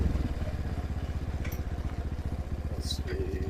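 Trailmaster TM31 dirt bike engine running at a steady pulsing putter while being ridden, close and moderately loud, with a couple of faint brief sounds on top.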